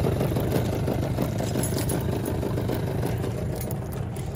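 The outboard engine on a 1998 Carolina Skiff J16 with a rebuilt carburetor warms up at idle, a steady, close, low rumbling drone with a light whirring edge and no speech.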